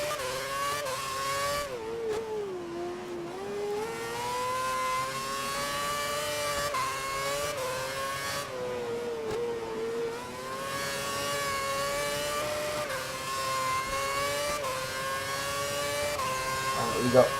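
Formula 1 race car engines in the F1 2011 video game drone continuously with rising and falling pitch through gear changes, loud and steady throughout, while a person talks over them.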